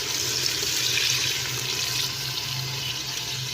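Half a jug of water is poured into a pot of goat trotter gravy, a steady splashing pour that runs continuously at moderate volume for a few seconds without speech.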